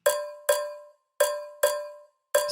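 Five crisp, metallic percussion hits with a cowbell-like ring, evenly loud and close, each decaying quickly, in a loose repeating pattern with a short pause midway, from a moombahton build-up.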